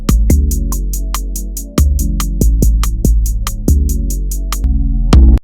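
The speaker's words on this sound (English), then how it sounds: "now this would be a two-step pattern in Fruity Loops" Two-step hi-hat loop programmed in FL Studio: crisp, evenly spaced hats ticking over a booming kick and bass pattern, loud and steady, repeating for several seconds with no talking.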